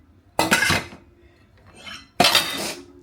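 Dishes, a saucepan and cutlery clatter in two loud bursts with a softer clink between, as items are loaded into a dishwasher rack nearby.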